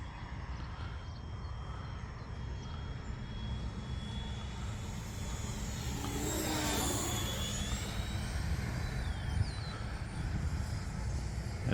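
A small airplane flying a lap high overhead, its engine a steady far-off drone that swells as it passes closest and then continues through the rest of the clip.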